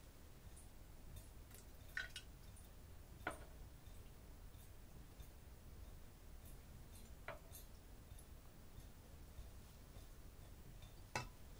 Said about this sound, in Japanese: そのお水が落ちた時の音が 静かに響くの。